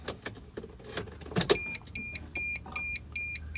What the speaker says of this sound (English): I'm going to turn the key on.